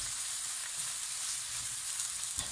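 Grated vegetables fry in a pan for a vegetable jalfrezi, giving a loud, dense, even sizzle that holds steady throughout with no voices.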